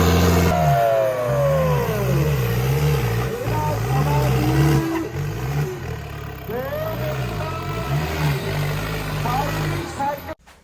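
A tractor engine chugs steadily with a low, pulsing throb at a tractor competition in Khatra Chuharam, Ludhiana, under someone talking over it for most of the stretch.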